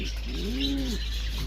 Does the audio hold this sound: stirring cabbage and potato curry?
no